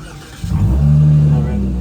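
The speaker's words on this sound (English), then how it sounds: "Start it up, give us a little rev." A Dodge Challenger with red interior revs up close by, its engine note swelling suddenly and holding as a loud, sustained growl for over a second, with people's voices around it.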